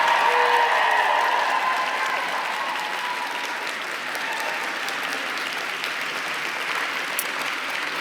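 Graduating students at a university convocation ceremony applaud in a sustained, dense round of clapping that fills the hall, loudest at first and then settling into a steady wash with a few sharper claps.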